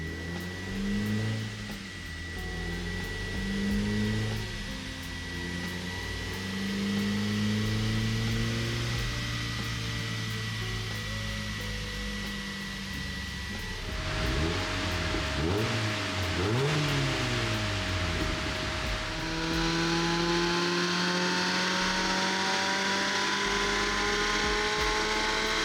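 Mazda MX5 engine fitted with a BBR Super 175 naturally aspirated kit, run on a dyno through progressive pulls across the gears, revving up and down in rising and falling sweeps with a steady mechanical drone throughout.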